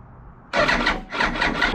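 A Yamaha R1 4XV 2000 motorcycle with a freshly repaired carburetor cranks in two close, loud bursts of rough, pulsing starter and engine noise after a quiet start.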